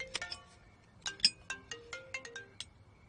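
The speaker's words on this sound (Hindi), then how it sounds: "मेरा फोन बज रहा है" A mobile phone ringtone plays a bright, plucky electronic melody of quick repeated notes, close and clear, with no talk over it.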